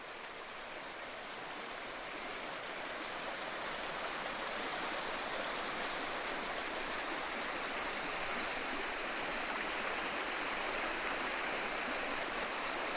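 River water rushing steadily through a canyon, a continuous broadband roar that holds at an even, fairly loud level throughout with no voices.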